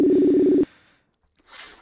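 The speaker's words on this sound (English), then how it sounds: "So it's ringing, which is really good." A telephone ring tone sounds once during a call, a steady buzzing tone lasting about half a second before cutting off, followed by near silence and a faint noise.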